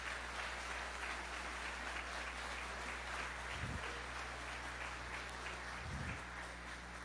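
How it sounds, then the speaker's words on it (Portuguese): A church convention congregation applauds Jesus in a steady, even wash of clapping that sounds faint and distant, with no clear breaks. "Pode aplaudir Jesus"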